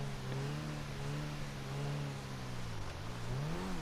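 A Progen Itali GTB, modelled on the McLaren 570S, revs in GTA Online, its engine holding a steady droning tone that dips and then climbs again near the end, heard alone at moderate volume.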